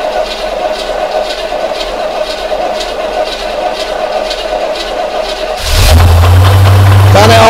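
A Corvette C3 that sat unused for about ten years cranks steadily for several seconds, then its engine catches and roars loudly to life up close.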